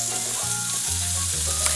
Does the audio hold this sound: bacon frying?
yes